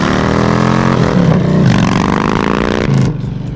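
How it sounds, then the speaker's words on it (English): A custom-built Kraus motorcycle with a belt drive and a Fab 28 exhaust revs close by, its engine note loud and steady, swelling briefly before easing off near the end. "We've got a Fab 28 exhaust,"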